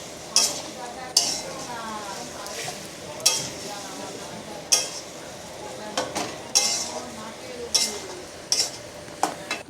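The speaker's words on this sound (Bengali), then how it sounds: "এটা দিয়ে দিলাম, দিয়ে ভালো করে কষে নিচ্ছি।" Yogurt-marinated chicken pieces stir-fried in a pot for chicken kosa biryani, a steady soft sizzle broken by repeated sharp clinks and scrapes of a spoon against the metal pot.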